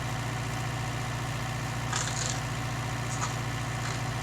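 Tractor engine idling through a 1966 sugar beet harvest, a steady low rumble with a few faint higher clatters over the top.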